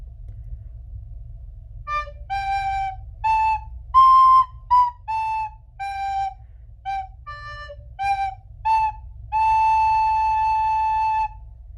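Pure, breathy recorder notes played one at a time, each separately tongued, ending on a long held tone, over faint low background hum.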